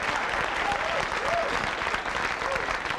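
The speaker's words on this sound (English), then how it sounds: "Give him a big round of applause." A roast audience at a 1977 comedy event claps for Reverend David Banks in a steady, dense burst of applause, with brief voiced sounds rising above the clapping.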